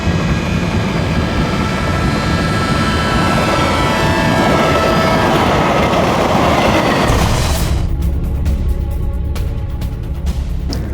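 A train roars past on a railway track near a station, loud and close, with a dense rumble and clatter for about seven seconds that then thins to a lighter rattling.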